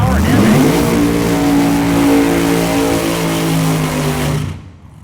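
A Lethal Threat Racing Mustang drag car with a blown, alcohol-burning 3,000 horsepower Hemi roars loudly and accelerates hard at Drag Week, its engine note climbing before cutting off sharply, with a commentator talking over it.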